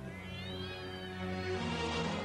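Cartoon kittens meow in a drawn-out, wavering cry that swells slightly louder toward the end, close and alone with no talking.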